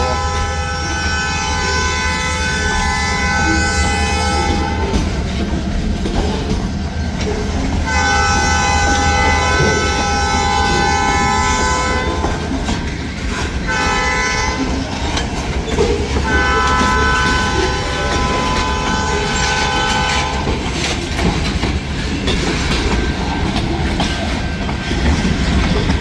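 Two vintage locomotives haul a long freight train of nearly 80 cars, a loud steady rumble of rolling wheels and clacking rail joints with repeated horn blasts sounding over it throughout.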